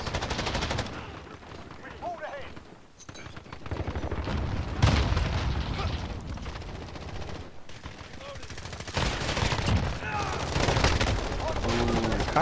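Rapid automatic fire from a Bruen rifle in Call of Duty: Modern Warfare, with loud repeated bursts and distant battle noise throughout, while someone talks over the shooting.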